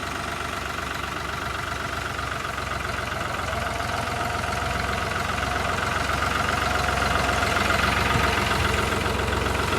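A tractor engine idles steadily in a waterlogged paddy field during rice harvest, where the tractor has become stuck, giving a continuous, close, even diesel rumble with a faint knocking texture throughout and no voices.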